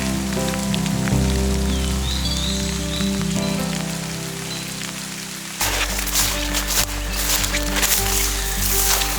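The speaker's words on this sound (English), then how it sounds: "Still raining." Steady rain patters on foliage and ground along Enlow Fork Trail in Pennsylvania, a dense continuous hiss that grows louder and brighter partway through, with no voices over it.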